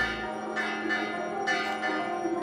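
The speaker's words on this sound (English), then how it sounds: "the sound of the bell removes negative energy and prepares the mind for the divine" A temple bell rings with sustained, shimmering resonance, struck twice in close succession and left humming with a steady metallic tone throughout.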